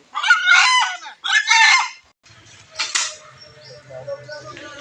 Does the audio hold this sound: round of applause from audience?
no